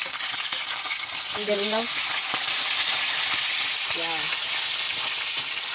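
Tilapia fries in hot oil with a steady, dense sizzle filling the whole scene, loud and close, while a voice speaks briefly over it.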